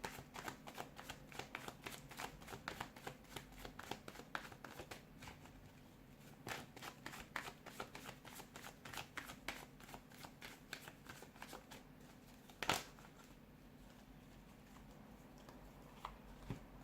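Tarot cards being shuffled by hand at close range, a quiet, dense run of rapid papery riffles and flicks, with brief pauses and one sharper tap near the end.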